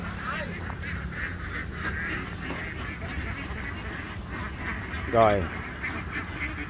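A large flock of ducks being herded outdoors on a farm, a steady background of massed quacking and honking throughout, with one louder nearby call near the end and a brief spoken word.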